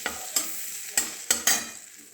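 Whole spices — black and green cardamom, cloves and cinnamon — sizzle in hot oil for chicken soup, with a steady fry broken by five sharp stirring scrapes at uneven intervals.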